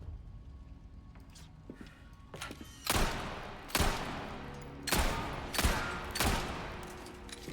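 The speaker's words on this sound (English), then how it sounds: "I'm just shooting around." Gunshots in Resident Evil 4 Remake: after a quiet stretch, five loud, sharp shots ring out at irregular intervals of roughly a second, each with a short decaying tail, over faint game ambience.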